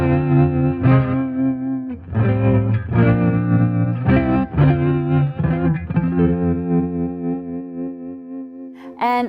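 A distorted electric guitar runs through a tremolo pedal, playing chords and short riffs while the volume throbs in quick regular pulses, loud and up front, with a brief pluck at the end.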